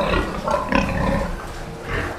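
A sow on a pig farm grunts steadily and close by, with low snorts and rustling throughout.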